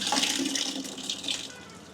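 Tap water runs steadily and splashes over a Triumph Scrambler 400 X motorcycle's BMC air filter being rinsed, a close continuous rushing.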